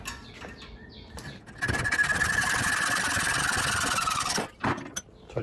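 A bench grinder smooths the rough edges of a cut metal jacking puck for a C5/C6 Corvette, a steady loud whirring grind with a high squeal lasting several seconds before easing off, with quieter shop noise around it.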